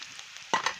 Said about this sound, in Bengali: সেদ্ধ আলুটাকে ভাজছি।